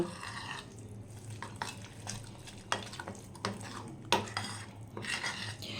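Utensils scraping and clinking in a bowl as semolina dhokla batter is stirred with ginger paste, grated carrot and coriander leaves, a steady close-up mixing with a few sharper knocks, no talking.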